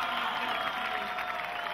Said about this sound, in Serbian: Aplauz za vas.